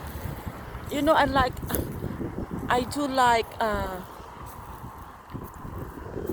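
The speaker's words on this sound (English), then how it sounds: "And it's too windy." Wind blows outdoors on a mountain-ringed afternoon in San Marcos, a steady broadband rush and microphone buffeting under a voice talking.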